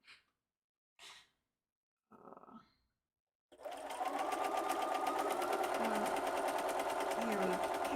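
Sewing machine running in a long steady stitching burst after a few brief breathy sounds, close and loud, continuous to the end.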